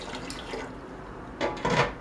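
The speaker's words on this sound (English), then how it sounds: "We're going to add 3 cups of water." Water splashes in short bursts as it is poured into a boiling stock pot of bouillon and beer, with a quieter stretch between the louder gushes near the end.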